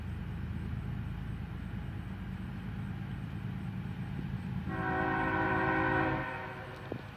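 A freight train rumbles past at dusk on a line running BNSF, Union Pacific and CSX trains, its low steady roar filling the scene before a loud, sustained multi-tone horn blast sounds near the end and then cuts off.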